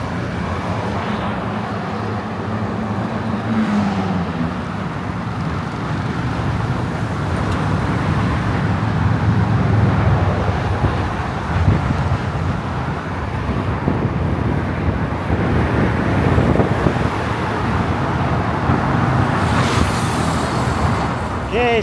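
Steady road traffic roar around a bicycle in Kuala Lumpur, with passing cars and trucks and gusty wind buffeting the microphone throughout, continuous and fairly loud.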